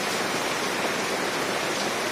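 Heavy rain falls steadily during an outdoor Ramlila event in Kanpur as a Ravana effigy gets soaked, a dense, even hiss at constant loudness with no voices.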